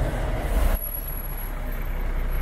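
A big tour bus pulls in and releases its air brakes in a sharp, loud hiss, after which the heavy engine settles into a steady low rumble with a thin high whine above it.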